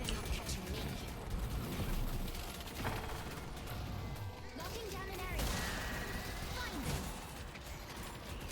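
Gunfire and clattering mechanical noises from enemies in a video game, a dense continuous mix of shots, creaks and ratcheting with a player talking over it throughout.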